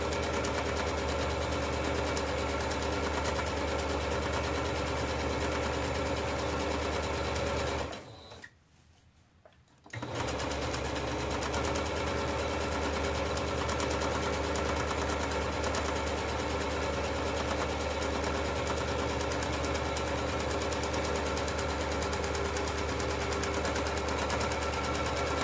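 A sewing machine stitches ribbon onto the hem of a child's ball dress with a steady, fast, continuous mechanical whir. It stops for about two seconds partway through, then runs on at the same even pace.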